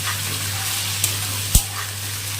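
Chopped onions frying in a pan for palak paneer, a steady close sizzle and hiss with a low constant hum underneath and a couple of brief clinks or stirring knocks.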